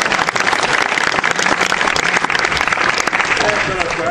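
Sustained, loud applause fills an evening show at the Veraclub Palais des Iles resort, a dense clapping wash from a large crowd, with voices mixed in.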